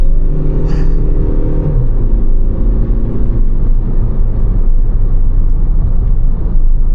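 A Skoda Rapid 1.6 TDI Spaceback diesel car pulls hard under acceleration from inside the cabin, its engine note droning and rising steadily and loudly for several seconds with no speech.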